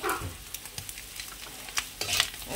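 Spices, chilli powder, pepper and a little sugar being stirred through food frying in a pan, with scraping spoon strokes and soft sizzling at close range, no talking.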